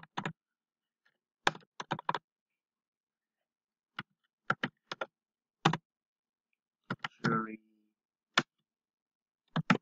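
Sharp clicks of keys typed on a computer keyboard while a font name is entered, coming in short irregular bursts of a few strokes with pauses between them, close and clear, with a brief murmured voice in the middle.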